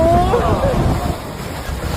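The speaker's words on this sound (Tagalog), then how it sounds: "Ang lakas ng hangin!" Strong typhoon wind roars and buffets the microphone in heavy gusts, with a voice shouting briefly over the rush at the start.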